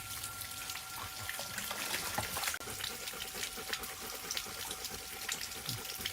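Water splashes and patters steadily as a dog named Boonrod is bathed and lies playing in it, a dense broadband spray with scattered drip clicks and no talk.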